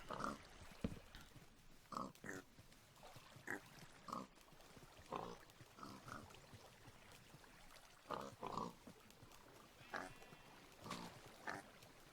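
Pigs in Minecraft, including baby pigs, grunt and oink in repeated short bursts at an irregular pace, fairly close and clear over a quiet background, with no speech.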